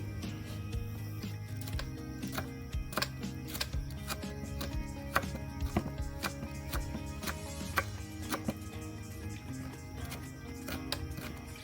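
Elephant foot yam flowers being chopped by hand in a home kitchen, a steady series of sharp, close knife taps against a board with a few louder strikes, continuing without pause.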